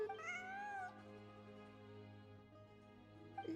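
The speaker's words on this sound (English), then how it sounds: "I followed the cat's cries to find my way out" A cat in the video game Genshin Impact gives a long, rising and falling meow that stands out clearly, followed by quiet game ambience and the start of another faint cry.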